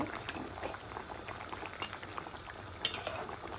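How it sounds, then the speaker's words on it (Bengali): Fish curry with turnip and coriander leaves bubbling in a pot, a continuous close simmering burble with soft scraping stirs and one sharp clink of utensil near the end. "ধনিয়া পাতা দিয়ে দেবো একটু নেড়ে দিব"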